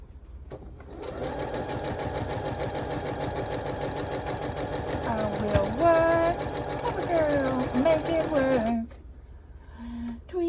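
A sewing machine stitching quilt seams, a steady rapid mechanical whirr running close and loud for several seconds, then stopping abruptly; someone speaks and sings over the hum toward the end.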